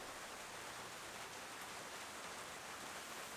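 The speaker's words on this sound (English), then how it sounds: "It's raining outside, but I'm under cover." Steady rain falls outside on a homestead in autumn, heard from under cover as a dense, even hiss with no break and no voices.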